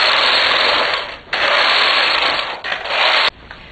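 A domestic knitting machine carriage with ribber attached sliding across the needle bed, two long loud whirring, clattering passes and a short third, mechanical and close with no voices.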